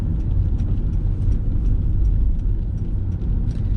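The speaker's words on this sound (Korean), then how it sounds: "가속 페달 밟으시고요" Steady car engine rumble inside a moving vehicle during a beginner driving lesson on city streets, a continuous low drone holding near and loud throughout as the driver presses the accelerator.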